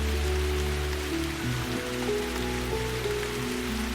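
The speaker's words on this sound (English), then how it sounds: "More rain keeps coming," A steady rain downpour with constant hiss and patter, joined by low sustained tonal layers, filling the whole span at an even, moderately loud level with no voices.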